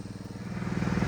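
A generator running a water pump motor on a village farm, giving a steady, close droning hum with a low rhythmic pulse that swells slightly louder toward the end. No talk is heard.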